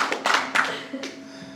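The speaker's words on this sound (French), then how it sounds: "Vous l'applaudissez là." Audience at a concert in the Salle Jules Verne clapping: a few scattered, sparse claps and taps from a small group, fairly quiet and brief, fading out with no talk.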